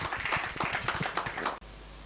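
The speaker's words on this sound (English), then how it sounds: "let us give Professor Ambreena Manji a round of applause as well as we welcome her to deliver her speech" Audience applause welcoming Professor Ambreena Manji as keynote speaker at a conference session, a fairly quiet patter of many hands lasting about a second and a half before cutting off abruptly.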